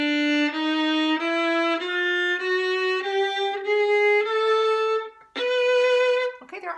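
Violin plays the notes of a run from Tchaikovsky's Sixth Symphony (second violin part) in separate bows, a steady series of clear, close bowed notes stepping upward, with a brief pause near the end before one more held note.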